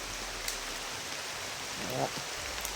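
Rain falls outdoors, heard from shelter under a tree, as a steady, soft hiss with faint scattered drops and no voices.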